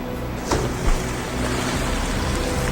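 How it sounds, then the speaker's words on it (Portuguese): Forty-ton humpback whales breaching and splashing at sea: a steady rush of open water and surf carries two brief, heavier splash impacts close together early on, with no voices present. "40 toneladas de baleias jubartes saltam pela água."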